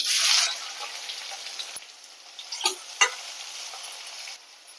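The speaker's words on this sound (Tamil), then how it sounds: "இப்போ வெங்காயம் நல்லா வதங்கி வரட்டும்" Large onions sautéing in a pan with curry leaves for a tamarind okra curry, a soft sizzle with a brief louder burst at the start and a few scraping stirs of a spoon midway.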